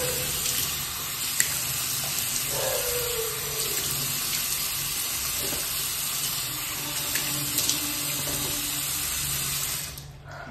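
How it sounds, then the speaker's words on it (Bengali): Tap water runs steadily into a sink while someone washes their face, a continuous close splashing stream with small splashes and drips, ending abruptly. "হলো মুখ ধোয়াটা"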